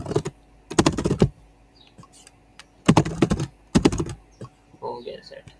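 Key clicks from a Japanese-layout computer keyboard, typed in several short, dense bursts of rapid tapping with quiet pauses between them, fairly close and clear.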